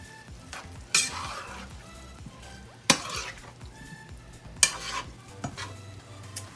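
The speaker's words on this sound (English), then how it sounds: "Stir that up." A spoon stirs a sauce mixture in a sizzling frying pan for a quick dinner, with a steady low sizzle under three sharp scraping clanks of utensil on pan and a few softer clinks, heard close with no talking.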